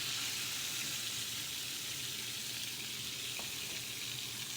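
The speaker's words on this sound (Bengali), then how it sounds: "আমি টমেটোগুলো ভেজে নিব।" Tomatoes fry in a pan for a home-cooked fish curry, giving a steady, close, even sizzle that holds at one level throughout with no voices.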